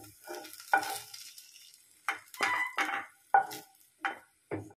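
White urad dal is lightly fried and stirred in a pan for Andhra-style gongura pachadi, giving scattered scraping stirs and soft sizzling bursts in an irregular rhythm, with no talking.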